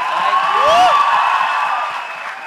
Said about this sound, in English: a big round of applause for this very well-behaved gentleman